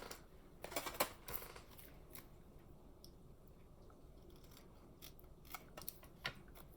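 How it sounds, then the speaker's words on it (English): Scissors snip in quiet, close-up bursts, a few quick cuts near the start and scattered single snips later, crisp and faint against a hushed room. "Scissors."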